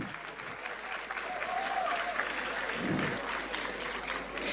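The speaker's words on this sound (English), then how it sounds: "Can we have a huge round of applause for him?" A business conclave audience gives a speaker a steady round of applause, a continuous, moderately soft wash of many hands clapping together that holds for the whole stretch.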